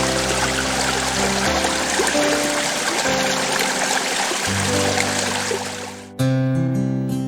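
Stream water flowing near Chungju, Korea, a steady rushing wash that continues throughout with a musical backing.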